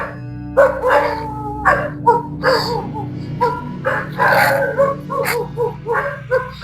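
Several dogs bark and yip at night in a cemetery, sharp bursts coming in irregular clusters at moderate distance, with whimpering, howl-like tones in between over a steady low background hum.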